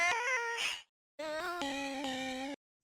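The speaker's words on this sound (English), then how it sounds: "So the next thing I have on here is this erosion" Chopped vocal samples processed by an erosion effect plugin in a future garage production, two phrases of pitched, gritty, textured vocal tones separated by a brief silence, with no other sounds alongside.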